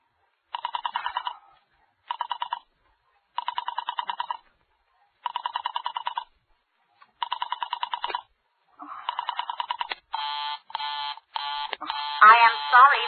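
Telephone in a classic radio drama sounding a busy signal: evenly spaced electronic tone bursts repeat several times, followed by quick tonal dialing-like beeps toward the end, clear and alone.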